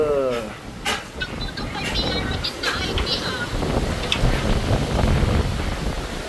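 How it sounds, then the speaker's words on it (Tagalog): Strong gusting wind in Australia roars steadily into the microphone, a dense, rushing buffet that rises and falls, with people talking and exclaiming over it. "Lakas ng hangin!"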